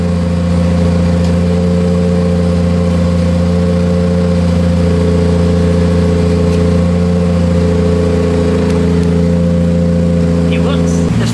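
A Toyota 2JZ engine idling a little high with its cooling fan running, giving a loud, steady, close drone that holds without change throughout.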